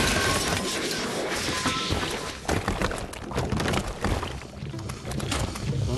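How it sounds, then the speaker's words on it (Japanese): A loud in-game explosion in the puzzle game Good Job! bursts into a dense crash of shattering and thudding debris that rumbles on and slowly fades. "ほら、爆発した。"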